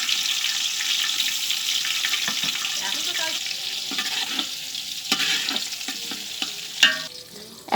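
Chopped onions fry in oil for shahi pulao alongside bay leaves, cinnamon, cardamom and raisins, giving a steady close sizzle broken by spoon stirs and scrapes, with one sharper clatter near the end.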